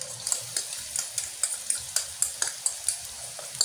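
Garlic cooking in oil for tortang macao, a soft sizzle under a steady rhythm of about eight sharp utensil scrapes and clicks against the pan, close and moderately loud, with no talking.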